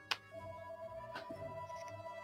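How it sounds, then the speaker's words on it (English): A telephone ringtone sounding during a World of Tanks gaming session, a sharp electronic ring with sustained tonal notes repeating softly over a couple of seconds. "There's a phone."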